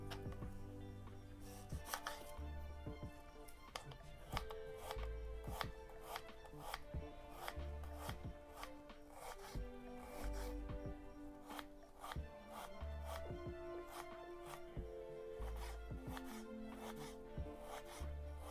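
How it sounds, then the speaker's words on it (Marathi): Steady knife chopping of onion on a chopping board, a run of close, crisp repeated strikes across the whole stretch with no talk, amid other kitchen clatter. "तर कांदा पण कापून घेते."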